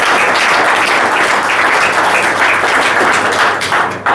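A crowd claps loudly and continuously, dense overlapping hand claps filling the whole stretch before tapering slightly at the end, with no speech over it.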